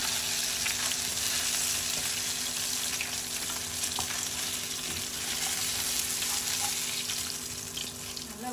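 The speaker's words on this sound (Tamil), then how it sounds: "இந்த பேஸ்ட் வந்து நல்லா எண்ணெயில் வதக்கிக்கணும்" A spice paste for fish gravy sautés in hot oil, producing a loud, continuous close-up sizzle that holds steady the whole time, with no one speaking.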